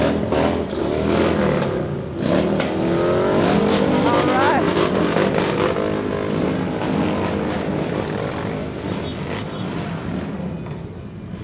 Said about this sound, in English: They've got some guys on motorcycles, and just to make sure you can hear them, they like to pump up their throttle a little.